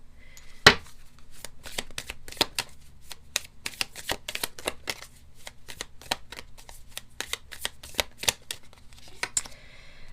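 An oracle card deck is shuffled by hand close up, with a steady run of crisp riffling snaps and one sharper slap near the start, and no talking.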